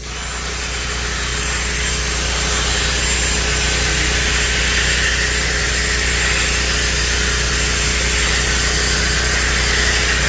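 A bristle brush scrubs a fabric car seat back and forth, making a continuous loud rasping hiss that carries on without a break.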